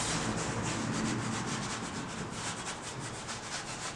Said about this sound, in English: So I'm gonna rub this in a little bit.